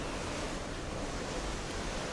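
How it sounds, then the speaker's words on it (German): Rough sea on a boat trip toward Croatia gives a constant broad roar of waves mixed with wind rush, loud and unbroken through the whole stretch. "Wir haben einen relativ hohen Wellengang, vielleicht sieht man es hier."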